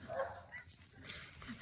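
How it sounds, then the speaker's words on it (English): A pet dog gives a short bark or two followed by faint whimpering yips, somewhat distant and soft, heard indoors during a weaving lesson. "it's my dog"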